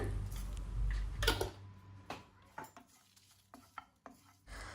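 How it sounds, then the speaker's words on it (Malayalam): Irregular scraping and clinking of a utensil against a pan as spices including fennel are dry roasted, with faint sizzling between the knocks. "നന്നായിട്ട് വറുത്തെടുക്കുകയാണ്"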